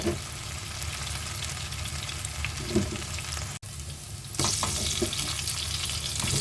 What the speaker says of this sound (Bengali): আবার কিছুক্ষণ পর একটু গাঁটি কচুটাকে নেড়ে এর মধ্যে আলুগুলো এক এক করে দিয়ে দেব